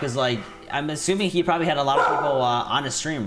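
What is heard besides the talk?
dog barking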